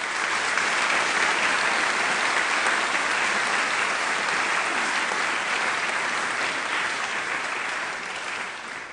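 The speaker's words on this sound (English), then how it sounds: "I'd like us to have a round of applause, please" A large crowd at a graduation ceremony applauds steadily for several seconds, a dense, even clapping that fades slightly toward the end.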